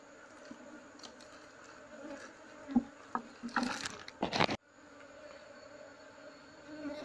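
Bees from a honeycomb hive being handled, comb frames already emptied of honey, buzz steadily with a louder swell of wings and a few knocks and rustles partway through, then settle back to a low hum.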